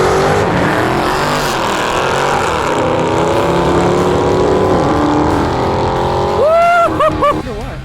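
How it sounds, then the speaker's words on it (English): A supercharged Hellcat car races at full throttle, a loud sustained engine roar with a rising, winding tone that climbs steadily and surges near the end. "A supercharged Hellcat."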